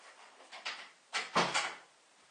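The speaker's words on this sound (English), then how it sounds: "let me close the door" An indoor door is pushed shut in a quiet house. A couple of soft creaks and shuffles come first, then a single muffled thud with a brief rattle, heard close by.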